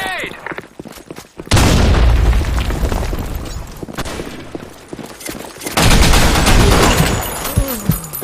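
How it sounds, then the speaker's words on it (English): Grenade blasts in the game Insurgency: Sandstorm, two loud booming explosions with long rumbling tails, separated by quieter stretches of distant gunfire and muffled shouts from players. "Grenade!"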